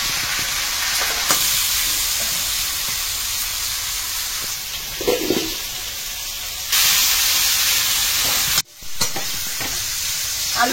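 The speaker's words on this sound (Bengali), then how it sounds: "আলুর মধ্যে একটু লবণ হলুদ দিয়ে আলুটা ভেজে তুলে নেবো।" Potato pieces seasoned with salt and turmeric fry in hot oil, a loud steady close sizzle with occasional stirring scrapes and a brief interruption near the end.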